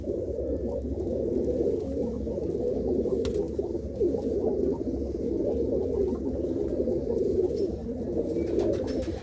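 An old pigeon coos steadily and close at hand, its low throaty rolling calls overlapping in a dense, continuous murmur with no talking over it.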